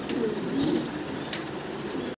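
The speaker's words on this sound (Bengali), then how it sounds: "দেখেন কত চঞ্চল কবুতরগুলো, ডিম বাচ্চা করা রানিং কবুতর।" Egg-laying breeding pigeons in a cage coo in low, rolling notes close by, with a few faint higher chirps over a steady background hiss.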